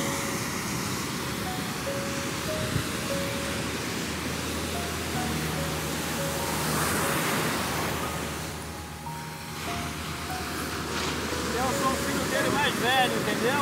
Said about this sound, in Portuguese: Olha só que beleza, como é gostoso o mar.